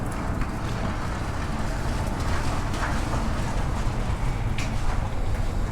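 A 1969 Dodge Coronet 500 engine runs roughly, producing a constant, loud, low rumble that sounds uneven and fluttering from start to finish.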